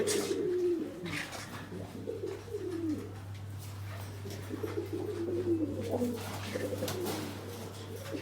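Pigeons in a loft give repeated low, rolling coos, several birds overlapping at close range over a steady electrical hum, with faint voices in the background.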